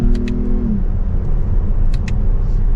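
A 2023 Lexus ES 350 F Sport sedan in S Sport mode, held in second gear, gives a loud, steady engine drone with a tonal whine that dips briefly early on, continuous and close with no voices.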